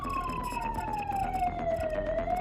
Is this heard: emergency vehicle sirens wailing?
yes